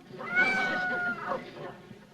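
A single drawn-out, wavering meow rises and falls, close and fairly loud, lasting about two seconds.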